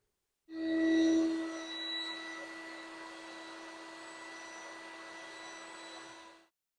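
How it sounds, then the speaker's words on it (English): A shop vac with a small brush attachment cleans dust from the chassis of a 1948 Hallicrafters television, a steady whining motor hum that swells at the start, then holds level before cutting off. "To clean this chassis, I just use a shop vac, and I have an attachment"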